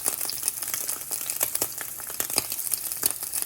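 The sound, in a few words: meat cooking in a hot pan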